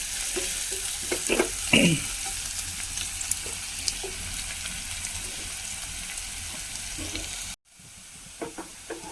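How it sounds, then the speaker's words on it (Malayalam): Chopped shallots and coconut sizzle and fry in a pan, a steady close hiss with a few stirring scrapes early on and a brief cut near the end. "നമ്മുടെ ഉള്ളിയും നാളികേരമൊക്കെ മൂത്ത് വന്നിട്ടുണ്ട്."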